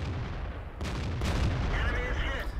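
Tank cannon firing a HEAT round in the World of Tanks video game, with a VK tank as the target: two heavy booming shots in quick succession, loud and close, with game noise underneath.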